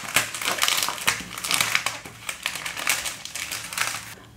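Crinkling and rustling of a thin plastic bag holding a sheet of dense, thin scrapbooking cardstock, handled up close in a steady series of crisp crackles with no talking.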